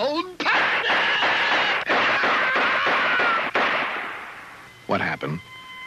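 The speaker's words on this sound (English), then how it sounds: "Some maniac came out of the men's room firing a gun" A rapid volley of loud gunshots rings out in a 1974 Mad Magazine TV cartoon special, sharp cracks over a few seconds before fading, followed by a brief voice.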